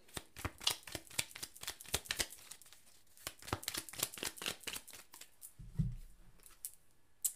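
Tarot cards are shuffled by hand in rapid riffling bursts, a steady crisp flutter of card stock that pauses briefly before a soft thump near the end, close and quiet with no voices.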